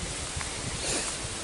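Strong wind blows steadily through a Kansas garden, a constant roaring rush buffeting the microphone with no break and no voices.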